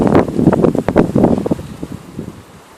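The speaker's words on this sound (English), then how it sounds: "The winds, we're like in a hurricane, like 80 mile per hour winds." Strong hurricane-force wind in Hemet, California, roars and buffets the microphone in loud gusty blasts, rustling trees, then eases to a quieter rush toward the end.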